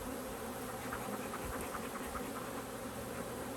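Honey bees buzz around their hive during a swarm cell check in Western Michigan, a dense, steady hum that holds without a break from start to finish.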